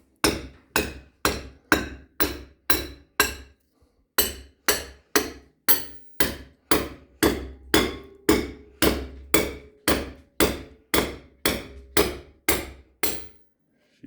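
A sledgehammer drives a beetle-kill wood fireplace mantle into place with about twenty-five loud, evenly spaced blows, each a sharp ringing crack that fades before the next, with one short pause early on and no speech.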